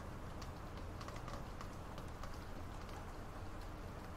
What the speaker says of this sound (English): You are hearing warm spring rain outside the window.